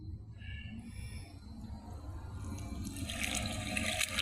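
Water rushes at Bustos Dam after a typhoon, a steady broad roar of flowing water that swells louder toward the end, with faint background tones.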